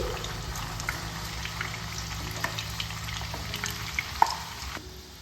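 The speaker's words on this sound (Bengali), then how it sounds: "চিকেন কোপ্তাগুলো হালকা ব্রাউন করে ভেজে নেব" Chicken kofta frying in oil until lightly browned, a steady close sizzle and crackle with faint clinks of a utensil against the pan and no voices.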